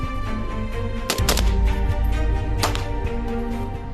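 Bursts of gunfire from light weapons and long-barrelled rifles at military target practice, two sharp loud volleys over a steady rumbling background, no talk.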